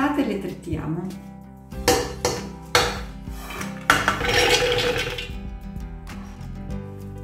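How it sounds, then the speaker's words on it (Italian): Toasted almonds being chopped with a knife on a board: a run of sharp, irregular knocks and clinks, with denser scraping near the middle, close and moderately loud. "Una volta che le mandorle sono tostate, le tritiamo."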